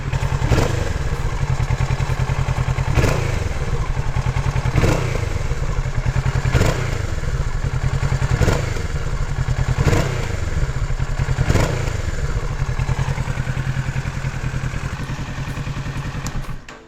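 A 2018 Kawasaki Z650 ABS motorcycle idles close by with a steady, low, throbbing engine note, punctuated by a few mechanical thumps and clatters at regular intervals before fading at the end.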